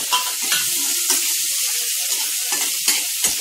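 Finely chopped tomato frying in a pan, a steady loud sizzle with stirring scrapes and soft crackles, alone without voices.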